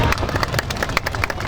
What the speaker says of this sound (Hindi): तालियां बजाइएगा।